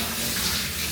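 Shower water runs in a steady, dense hiss, close and continuous throughout, with no voices.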